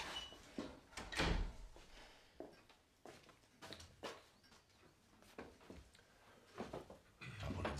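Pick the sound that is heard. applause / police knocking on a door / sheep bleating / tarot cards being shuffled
police knocking on a door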